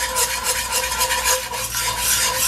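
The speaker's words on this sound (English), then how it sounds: "whisk that I have, it's a small one and my pan's deep, so it gets a little tough sometimes" A small whisk stirs steadily in a deep pan, its wires scraping and rasping against the metal in a fast continuous rhythm, close and fairly loud, with no voices.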